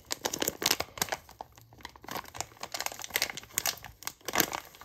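A bag of 100% Kona coffee is opened close up, crinkling and crumpling in quick irregular bursts of plastic rustle, fairly quiet with no talk.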